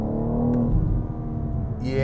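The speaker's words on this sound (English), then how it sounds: "yeah, that is a smooth engine" A 2023 BMW M4 xDrive Coupe engine rumbles low and smooth, revving gently with a deep throaty tone, close by and steady throughout.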